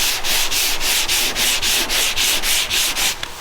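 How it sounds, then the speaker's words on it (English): A car panel is sanded by hand, with rapid regular back-and-forth rasping strokes, about three per second, loud and close with no talking. "now that I've got it all sanded"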